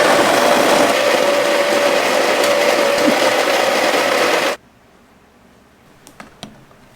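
A coffee grinder grinds coffee beans to a medium to coarse grind with a loud, steady whirring buzz that cuts off abruptly, followed by near silence and a couple of small clicks.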